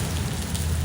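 Rain falling steadily, a dense, even hiss of drops on surfaces with a low underlying rumble, continuous and close.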